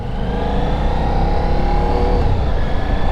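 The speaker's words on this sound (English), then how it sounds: "this lovely Ducati Diavel V4" Ducati Diavel V4 motorcycle engine running loud and close, a steady rumbling drone with a slight rise in revs, no voices.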